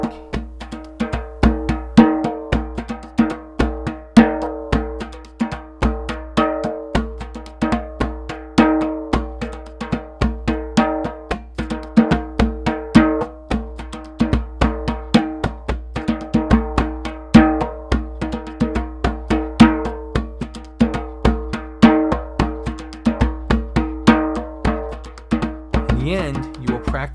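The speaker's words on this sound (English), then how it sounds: "This is where the individuality and character is displayed while playing on a hand drum." A hand drum plays a busy, continuous rhythm of deep bass tones and sharper slaps, steady and close throughout, with no talking.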